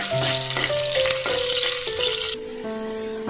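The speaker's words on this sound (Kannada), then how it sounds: "ನಾವು ಈರುಳ್ಳಿ ಕಟ್ ಮಾಡ್ಕೊಂಡಿದ್ದಲ್ಲ ಅದು ಹಾಕೊಳ್ಳೋಣ ನೀಟಾಗಿ ಫ್ರೈ ಮಾಡ್ಕೊಳ್ಳೋಣ" Chopped onions sizzle loudly in hot oil in a pan while curry is made, a steady close frying hiss with a few clinks of a utensil and no talk.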